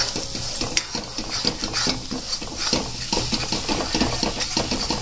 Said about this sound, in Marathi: आता आपण हे छान प्रकारे हलवून घेऊया